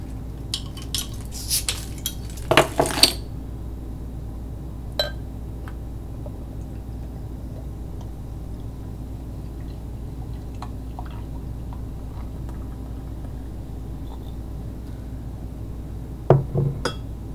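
A 22-ounce bottle of beer is opened and poured, heard as a quick cluster of clinks and a fizzing crack early on, then a long quiet stretch of soft pouring with another faint clink near the end.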